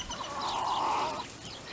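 A backyard hen gives a single drawn-out cluck as the birds are let out, moderately close over a low hum of outdoor background noise.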